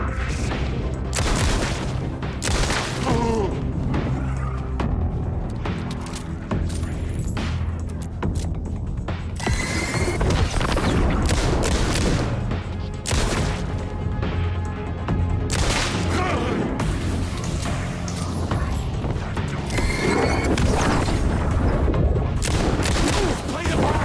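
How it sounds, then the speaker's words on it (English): Gunshots in the Night Springs video game, with repeated loud bursts and booming impacts packed densely over a long stretch, along with creaking mechanical noises and a continuous heavy background of action. "I was shooting you!"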